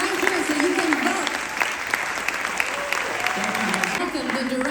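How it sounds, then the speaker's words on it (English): An audience at the SXSW premiere of Música applauds steadily and loudly, a dense wash of clapping from a large crowd that carries on throughout with little change. "Give them a very warm applause."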